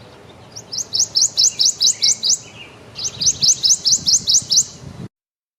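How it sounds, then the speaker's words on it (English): A Prothonotary warbler sings two loud, clear bursts of rapid, evenly spaced sweet tweets, each phrase about ten notes long, close and alone over faint background noise. "The song of the Prothonotary warbler is a loud tweet, tweet, tweet that usually contains somewhere between 4 and 14 individual tweets."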